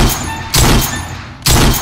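Two sharp, loud rifle shots from a hyper-skeletonized F-1 Firearms AR-15 crack about a second apart, each followed by a ringing echo.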